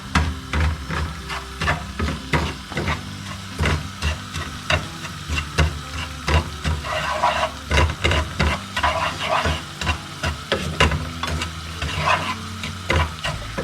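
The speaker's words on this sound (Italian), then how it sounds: "andiamo a mettere un po' di olio, mescoliamo e lo facciamo tostare così con l'olio" Breadcrumbs toast in olive oil in a pan for a Sicilian pasta dish, a steady sizzle broken by repeated scraping strokes of a spoon stirring through them, close and continuous with no talk.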